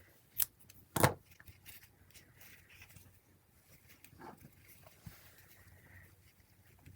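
A paper card being trimmed during gate-fold card making, with two quick, crisp snips close together near the start followed by faint rustling and quiet handling.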